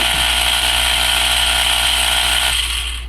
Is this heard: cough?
no